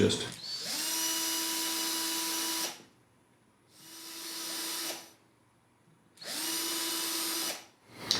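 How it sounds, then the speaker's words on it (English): A small power drill, fitted with a little bit to mark hole centers in wood, whirs in three bursts, each a steady high-pitched whine that spins up, runs for a couple of seconds, then winds down, close by. "put it in just a little drill so I can mark where my centers of those holes are going to be"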